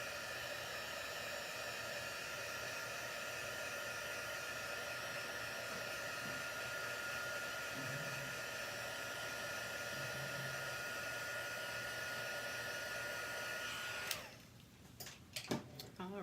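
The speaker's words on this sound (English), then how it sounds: "my little heat tool. I'm just gonna dry this to make sure that" A small craft heat tool blows steadily to dry paper, a close, loud continuous whooshing hum that runs unbroken for most of the time and then cuts off, followed by a few handling clicks.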